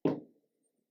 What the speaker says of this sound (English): Sometimes there's fireworks, and this is one of it.